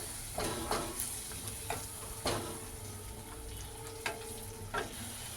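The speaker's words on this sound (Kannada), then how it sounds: "ಇದೀಗ ಒಂದು 30 ಸೆಕೆಂಡು ಫ್ರೈ ಆಗಿದೆ." Tempering for masala chitranna fries in a pan, a soft steady sizzle with scattered crackles and occasional spoon stirs, fairly quiet and close, no voices.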